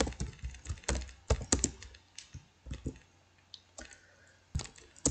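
Typing HTML form code on a computer keyboard: irregular bursts of close, crisp key clicks with short pauses between words and a louder stroke near the end, no voices.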